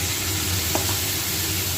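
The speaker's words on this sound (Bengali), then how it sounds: "এই যে ফুলকপিগুলো ভাজছি তরকারিতে চাপাবো" Cauliflower pieces frying in a pan for a Bengali curry give a close, steady sizzle over a low hum, with one brief clink partway through.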